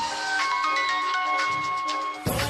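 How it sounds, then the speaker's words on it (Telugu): A phone rings with a steady electronic tone through a Telugu TV serial scene, sustained and fairly loud with no talk over it, cutting off abruptly near the end. "మీకు ఫోన్ వస్తుంది."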